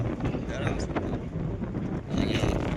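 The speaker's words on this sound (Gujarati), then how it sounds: "જો અત્યારે આપણે ઊભા છીએ આમ પવન બહાર આવે છે" Steady mountain wind near Gangotri buffeting the microphone, a continuous low rumble that swells louder near the end, with no clear talk over it.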